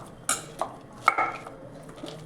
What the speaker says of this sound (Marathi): आता असं एखादं ग्लास किंवा फुलपात्र घ्यायचं आणि त्याने थोडंसं असं दाबून दाबून ह्याला